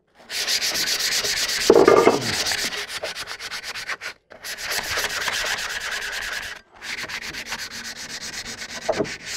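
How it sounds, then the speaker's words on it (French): Sandpaper rubs dry on a bare, partly rusty steel bicycle frame in three sustained scraping passes separated by short pauses, close and fairly loud. "Sur l'acier à nu, je ponce à sec parce que sinon ça rouille très très vite avec l'eau."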